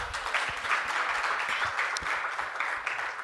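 Audience applause at a research outputs workshop, a steady wash of many hands clapping together, moderately loud and continuous throughout, with no talking over it.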